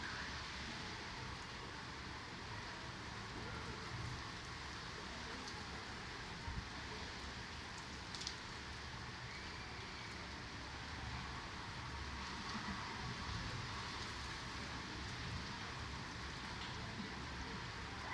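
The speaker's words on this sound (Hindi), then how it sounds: "लेकिन आज लग रहा है कि बारिश जो है ज़ोरदार होएगी, हो रही है और अभी भी होएगी" Steady, dense rain pouring down, a constant hiss of drops on surfaces with no voices, continuous throughout.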